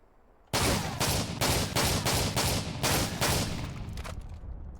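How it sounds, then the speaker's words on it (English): AA12 automatic shotgun fired in a Call of Duty game: seven heavy, booming blasts in a steady rapid rhythm, each loud and full-bodied, followed by a short fading tail. "the third shotgun is the AA12, another famous shotgun out of MW3"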